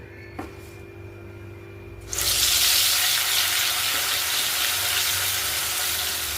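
Ground masala paste drops into hot oil for a spiced brinjal rassa curry. After a quiet moment and a small tap, it erupts into a loud, close, sustained sizzle that holds steady to the end.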